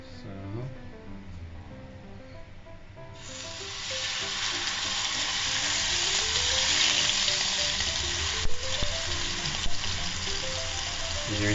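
Ribeye steak sizzles as it fries in oil, a soft crackle that swells into a steady, loud hiss with occasional pops and faint background sounds.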